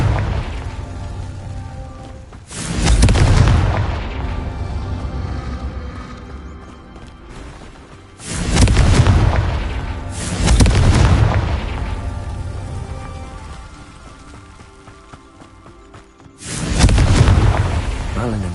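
Confringo fire spells blast in Hogwarts Legacy, four loud booming explosions at irregular intervals, each a sharp heavy burst that rolls off slowly over game ambience.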